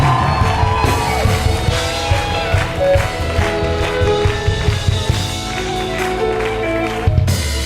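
A worship congregation shouts, whoops and cries out together, loud and continuous, over sustained musical tones, with the shouts swelling and overlapping throughout.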